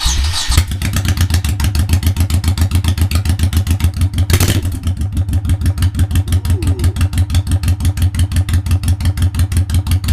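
A motorcycle with freshly installed Cobra drag pipes starts up and settles into a loud, close idle. The exhaust gives a rapid, lumpy, even pulse, with one brief blip partway through.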